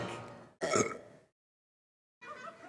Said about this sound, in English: Burping, that's the answer.